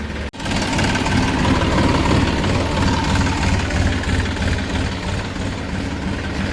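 A farm tractor's diesel engine idles loudly and close, a steady low rumble with constant vibration after a brief clunk at the start.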